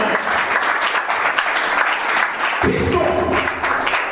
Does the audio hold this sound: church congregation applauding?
yes